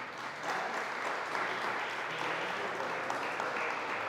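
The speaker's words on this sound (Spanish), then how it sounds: "¿Cuánto le dan un fuerte aplauso al Señor?" A church congregation applauds for the Lord, a dense, steady wash of many hands clapping together at moderate distance, sustained throughout without a break.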